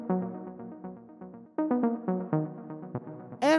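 A bright deep house synth lead plays a quick melodic line of short notes, ending in a swirling, rising sweep.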